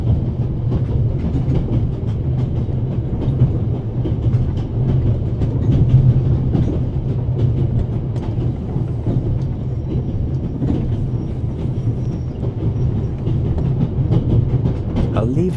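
Train interior from the video game The Raven, a continuous loud rattling rumble with steady clickety-clack and faint metallic knocks, with no voices.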